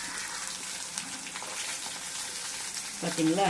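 Small shallots fry in hot oil for a prawn curry, a steady close crackling sizzle throughout, with a person speaking briefly near the end.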